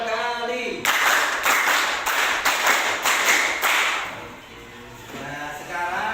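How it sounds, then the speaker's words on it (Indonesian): A group of people claps hands in two rounds of quick, sharp, rhythmic claps, loud and close, with voices faintly before and after. "Tepuk lima 2 kali."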